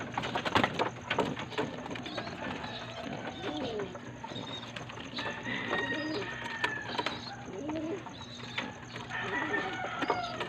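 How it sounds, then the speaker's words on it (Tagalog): Pigeons coo and cluck steadily in a busy coop, with a rooster-like call mixed in and constant low background noise. "ito po yung isang isang kauna-unahan kong kalapati na si Barok"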